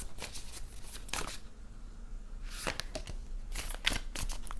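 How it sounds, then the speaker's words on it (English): A deck of tarot cards being shuffled close by, with soft riffling and flicking bursts repeating irregularly over several seconds amid faint handling noise. "Let's shuffle again."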